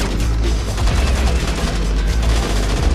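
Gunfire in the PS2 stealth game Splinter Cell, mission Kalinatek. Dense, rapid shots blur into a continuous loud rattle over a deep rumble, with no talking.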